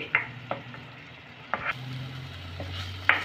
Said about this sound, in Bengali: এবার আমি মশলাটাকে কষে নেব।